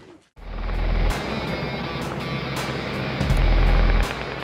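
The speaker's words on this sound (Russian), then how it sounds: "таким образом вертолет ищет золото" A helicopter hauls a large metal detector slung below it while searching for gold. Its rotor drones loudly and steadily, with faint repeating blade pulses and no voices.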